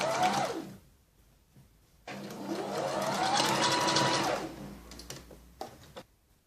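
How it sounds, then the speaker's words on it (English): A sewing machine stitching the shoulder seam of a cowl-neck lehenga top, running in two close mechanical bursts, a short one and then a longer steady whir, with a pause between. "Going to do the same to the other shoulder and sew down to the edge."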